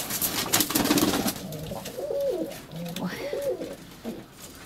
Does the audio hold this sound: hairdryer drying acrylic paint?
no